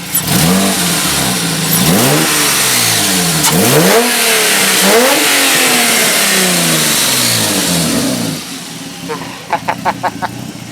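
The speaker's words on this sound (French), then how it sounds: "je vais, pour le plaisir, je vais vous mettre 2-3 coups de gaz" A Renault 5 Maxi replica with a V6 engine revs hard several times, loud and close, each blip swelling and falling, then settles toward idle with a few short pulses at the end; a voice can be heard over it.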